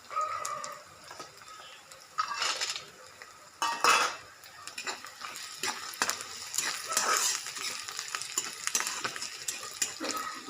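Peanuts drop into hot oil with curry leaves for upma, giving a crackling sizzle that rises in bursts, with clinks of a spoon against the pan, close and moderately loud, and no talk.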